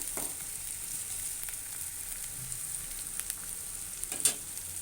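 Onions fry in a pan for chicken curry, giving a soft, steady sizzle with a few faint stirring clicks near the end and no talking.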